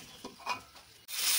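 Mango pieces stir-fried with turmeric, salt and oil in a pan, a few soft scraping stirs followed by a rising sizzle, close and fairly quiet.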